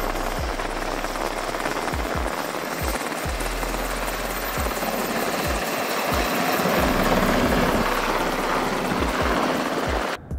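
Black Hawk helicopter engine and rotor noise, a loud continuous roar with rhythmic low blade thumps, heard close from inside or beside the aircraft.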